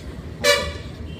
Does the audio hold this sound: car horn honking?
yes